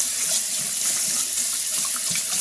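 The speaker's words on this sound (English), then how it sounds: "let's go back to the sink and put the water and see how it goes now." Water running from a bathroom sink faucet into a basin with a clog of stuck hair, a steady loud rushing hiss heard close up and alone.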